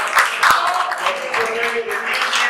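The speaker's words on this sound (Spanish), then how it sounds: "Un aplauso, señores, para el mejor." Audience applause for the top player at an international billiards tournament, a steady patter of clapping running the whole moment with a couple of sharp louder claps near the start and a voice speaking over it.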